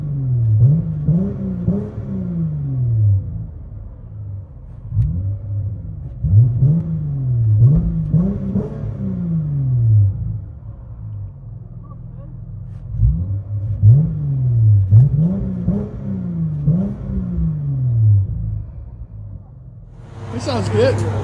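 A 2023 Dodge Challenger SXT with the 3.6L V6 and MagnaPack exhaust, heard from inside the cabin, holds a steady low, deep idle drone under continuous close talking, with a brief hiss near the end.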